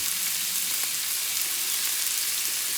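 Cheesesteak meat fries in a hot pan with a loud, steady, bright sizzle that never lets up, close to the mic and with no talk over it.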